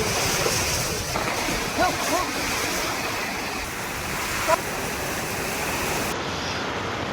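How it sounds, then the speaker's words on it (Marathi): A constant loud roar of heavy rain driven by strong cyclone winds, a dense rushing wash of noise with no pauses. "तुफान वादळी वाऱ्यासह पाऊस सुरू आहे"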